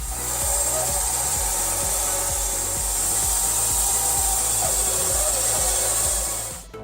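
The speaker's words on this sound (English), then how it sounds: "The device easily saws quite large logs, so the tests can be called a success." A homemade sawmill cuts through a large log with a steady, continuous grinding saw roar and a regular pulsing rhythm, loud and close, dropping away at the very end.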